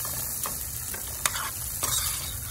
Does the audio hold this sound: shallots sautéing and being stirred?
yes